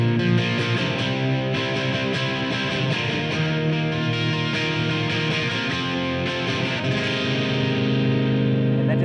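An electric guitar plays a solo through distortion and echo effects, with sustained, layered notes and a dense, continuous tone from start to finish.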